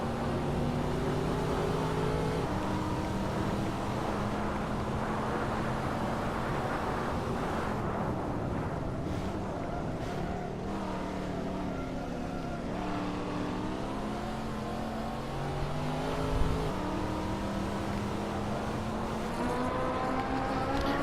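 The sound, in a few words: race cars driving in Hot Wheels video game race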